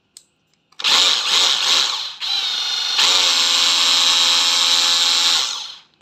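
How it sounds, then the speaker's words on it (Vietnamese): Hilti 36V brushless cordless drill switched to hammer drilling mode, revving in short bursts before settling into a loud, sustained buzzing whine with a gritty rattle, then spinning down; no talk. "Đây, đây chế độ khoan thương, búa này."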